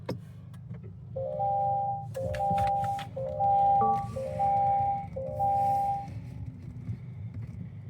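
A 2025 Acura ADX A-Spec Advance started by push button gives a run of five short, evenly spaced electronic chime tones, clear and close, over a steady low engine hum.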